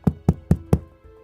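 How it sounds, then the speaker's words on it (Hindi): Four sharp knocks on a wooden door, evenly spaced in quick succession, close and clear against near silence, used as a sound effect. "फिर से नॉक करने वाली दरवाजे की आवाज़ आई।"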